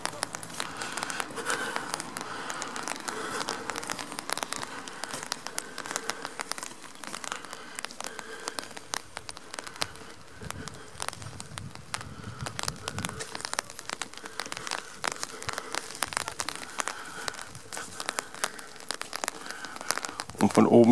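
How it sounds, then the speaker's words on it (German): Steady rain patters on surfaces outside a fortified church, a continuous crinkly hiss with scattered drip crackles lasting throughout, fairly close and even in level, with no clear talk over it. "Scheiß Regen."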